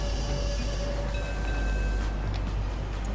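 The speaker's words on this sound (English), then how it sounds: "There goes the train." An in-game train rolls past in Rocket League, a steady, loud rumbling roar with thin high whining tones layered over it, continuous for the whole stretch and fading slightly toward the end, with no talking.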